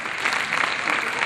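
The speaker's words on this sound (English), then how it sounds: "Round of applause for this man," Brief, dense burst of audience applause at a comedy show for a volunteer, steady and fairly loud clapping from a crowd with no speech over it.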